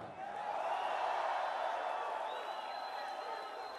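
A large concert crowd at Rock in Rio in Brazil roars and cheers in a sustained wash of voices that swells and holds, with a distant whistle-like tone threading through.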